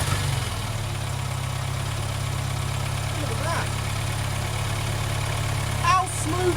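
Austin Maestro barn find car with choke pulled, engine already running at a steady low idle, close and continuous, with speech over it.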